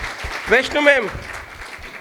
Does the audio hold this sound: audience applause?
yes